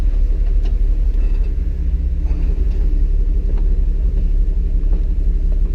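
A Jeep on a Moab off-road trail crawling along a rock wall beside a cliff, its engine giving a steady, loud low rumble throughout with faint knocks and scrapes over it.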